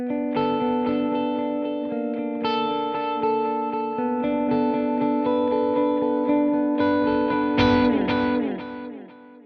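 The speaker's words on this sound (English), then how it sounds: "it's snapped to a quarter note at 120 beats per minute, which sounds like this" Electric guitar through the Archetype: Plini X plugin with delay set to quarter-note repeats at 120 BPM, sustained effected notes and chords ringing with echoing trails and reverb, playing alone without talk.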